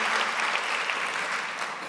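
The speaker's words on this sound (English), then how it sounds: "A moment's cheering for David Hockney." Applause with some cheering from a live audience for David Hockney, a dense, steady burst of clapping that fills the whole two seconds and fades slightly at the end.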